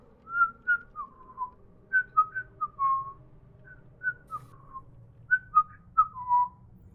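Short melodic whistles that seem to come from a hole repeat in pairs and clusters, falling in pitch, clear over a soft low rumble with no talking.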